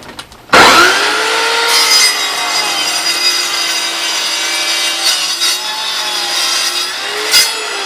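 Harbor Freight 7.25-inch carbide saw blade cutting metal: a loud, sustained high-pitched grinding whine that starts abruptly and continues steadily for several seconds with slight wavering in pitch, ending with a brief clank.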